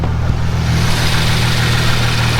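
A Hyundai Genesis Coupe 3.8 with a catback exhaust idles close by, a steady deep rumble with a low throb that holds even throughout, loud and alone with no speech.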